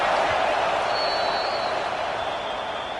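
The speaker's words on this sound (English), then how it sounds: "Big third down as the crowd gets behind this defense." Stadium crowd at a Utah versus UCLA college football game, roaring behind the defense on a big third down, a steady, wide wash of cheering that holds for several seconds.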